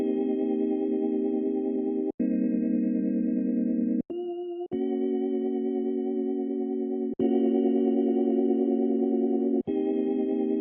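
A looped chord progression laid down for a song plays alone. Sustained harmonic chords change every couple of seconds, with brief gaps between them, steady and fairly loud.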